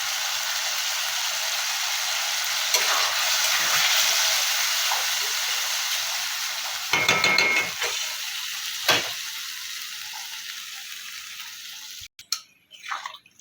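Cauliflower sautéed with sugar sizzles steadily in a pan for several seconds, with a few louder stirring scrapes, before the frying hiss fades into quieter clatter near the end.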